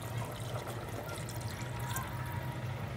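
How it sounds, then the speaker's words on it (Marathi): Water is poured into a pot of measured rice for chicken biryani, a continuous close trickle and slosh of liquid over a low background rumble. "तेवढंच पाणी घेतलं."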